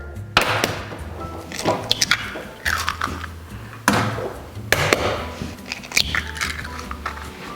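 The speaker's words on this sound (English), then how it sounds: "now we are going to crack our eggs and make the egg mixture" Eggs cracked one after another for an egg mixture in a home kitchen, several sharp close taps and crunchy shell breaks spaced a second or so apart, with wet squishy sounds between them and no talking.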